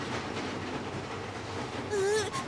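A cartoon train from the animated series Titipo rolling along its rails with a steady rumbling clatter, then a brief whistle-like tonal squeal near the end.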